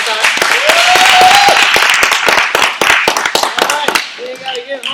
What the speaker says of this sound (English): So clap it up for yourselves again one more